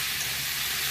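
Potatoes and spring onions frying in oil for a Bengali fish curry, giving a steady close hiss and sizzle that holds unbroken throughout.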